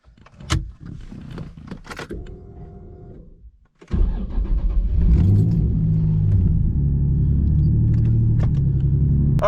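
A Nissan Z car starting up and driving, with a steady low engine rumble and road noise filling most of the stretch after a quieter interior start with a brief whirring motor.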